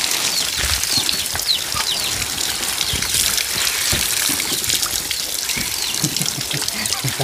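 Water trickles and pours steadily outdoors in a forest, a continuous splashing gurgle with scattered sharp drips and small knocks, while faint bird sounds and occasional voices come through in the background.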